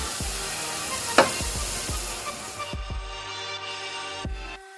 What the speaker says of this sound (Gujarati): તો હવે આપણે 1 મુઠ્ઠી અંદર ટામેટા નાખી દઈશું ઝીણા કાપેલા.